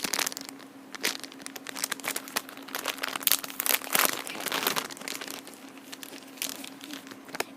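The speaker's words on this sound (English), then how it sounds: "I'm gonna switch it for you guys if you guys like the crinkly noises" Plastic packaging around a squishy toy crinkles and crackles in irregular close bursts, handled continuously with no talking.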